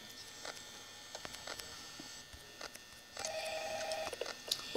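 The phone guy's call plays in the video game Five Nights at Freddy's as faint crackly telephone audio with scattered clicks and taps, then a louder buzzy line tone near the end.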